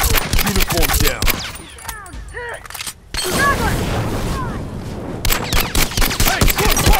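Full-auto rifle fire in The Last of Us Remastered multiplayer, sharp rapid bursts of shots up close, broken by a brief lull with chirpy in-game sounds before the firing resumes.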